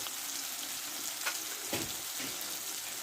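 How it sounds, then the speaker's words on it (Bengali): Tomato cooks in a pan with cumin, coriander and chilli powder, giving a steady close sizzle with a few faint stirring scrapes and a sharp knock at the very end. "এর সঙ্গে একটু ভালো করে মশলাটা কষে নেব"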